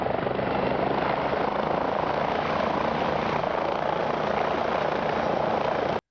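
The rotor of a simulated helicopter spins steadily during autorotation, giving a constant, loud whooshing whir with no break until it cuts off at the end.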